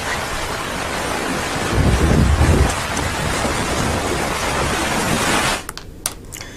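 Torrential rain and gusty wind from Cyclone Ditwah in Sri Lanka roar as a steady, dense wash, swelling with a deep rumbling gust near the start before cutting off abruptly near the end.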